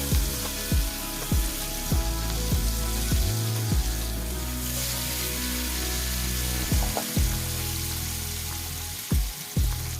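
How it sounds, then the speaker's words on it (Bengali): Fish frying in hot oil in a pan gives a continuous loud sizzle, broken by several sharp spattering pops and crackles spread through the clip, with no talking. "মাছের এক পাশ ভালো করে লাল হয়ে ভাজা হয়ে গেছে"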